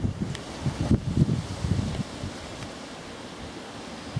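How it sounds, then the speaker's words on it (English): Gusts of wind buffet the microphone outdoors beside a shed, rumbling in low bursts for the first two seconds and then settling into a steady, softer rush. "here comes the wind again"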